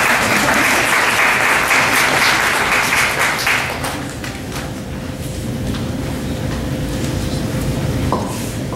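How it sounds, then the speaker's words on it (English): Audience applause at a women's fitness health seminar, dense and sustained clapping filling the room for several seconds before thinning out, with a faint tone underneath. "I heard applause, that must be my cue to come up here."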